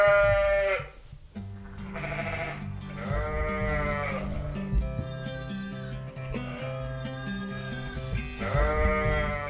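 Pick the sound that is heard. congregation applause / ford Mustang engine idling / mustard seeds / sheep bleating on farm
sheep bleating on farm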